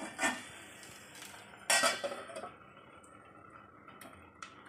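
Metal lid set onto a pan over thalipeeth cooking with oil on a low flame, a couple of sharp clinks and clatters with quiet gaps between them.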